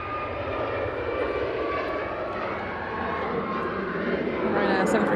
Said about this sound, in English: Ryanair 737 MAX 8 off to Lisbon.